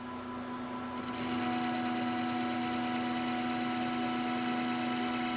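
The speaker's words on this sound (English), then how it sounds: "I'm gonna take a much faster facing cut, much higher feed rate facing cut." A machine takes a fast, high-feed facing cut on a lapping plate, giving a steady loud mechanical drone with a constant tonal hum that rises in level after the first second and holds evenly.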